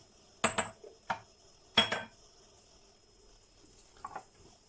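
Three eggs are added to a corn bread batter of yogurt, and the shells crack and clatter against a bowl in a few sharp, close knocks separated by quiet pauses, with one faint tap near the end.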